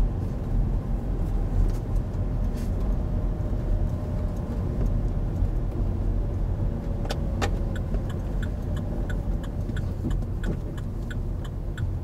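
A learner's car in a driving lesson, emerging at junctions, makes a steady low engine and road rumble throughout, with faint ticking clicks, likely the indicator, appearing near the end.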